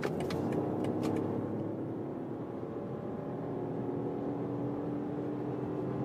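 A BMW X1 plug-in hybrid SUV accelerates on a German motorway from about 115 km/h, a steady cabin drone of engine and road rumble with a few faint clicks early on.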